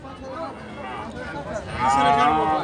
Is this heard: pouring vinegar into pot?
no